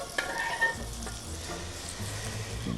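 Food sizzles and fries in a wok, a steady broadband hiss with a few stirring scrapes and clatters, close and fairly loud throughout, with no voices.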